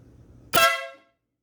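A single loud, harmonic blast from a train air horn fitted to a motorcycle sounds sharply and close, lasting about half a second before fading to silence.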